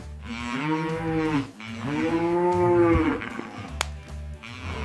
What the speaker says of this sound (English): This is a cow.